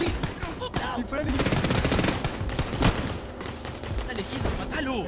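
Sustained automatic gunfire from the video game Ring of Elysium, loud rattling bursts of shots layered with other game noise and brief background voices, continuing without pause.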